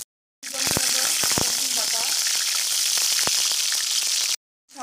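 Onion, bay leaf and spices fry in hot oil with a loud, steady sizzle, broken by a few clinks and scraping stirs, then cut off abruptly.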